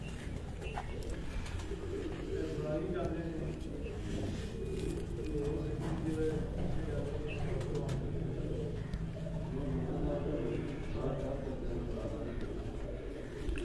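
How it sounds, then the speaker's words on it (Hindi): Jaunsre pigeons coo in low, throaty murmurs at a pigeon show in a home in Sargodha, with faint chirps and voices talking throughout. "ये जौंसरे कबूतर हैं दोस्तों"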